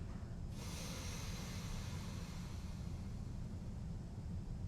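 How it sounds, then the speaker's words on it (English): A single exhale pushed out through the right nostril during alternate nostril yoga breathing in a hotel room, a steady close airy rush that starts abruptly and holds evenly for several seconds. "sealing off my left and exhaling out my right"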